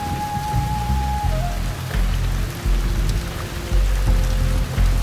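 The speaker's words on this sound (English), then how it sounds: "Rain has its beauty, but not today." Constant rainfall patters on surfaces in the Shadow Tactics video game, a dense and even hiss with low rumbling beneath and a few faint tonal game sounds.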